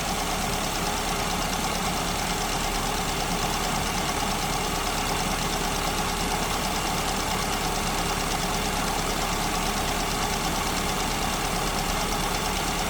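A car engine idles steadily, its idle mixture being leaned out by turning the mixture nut inwards, giving a continuous close mechanical hum with faint knocking and a gradually unsteadier idle, with no talk.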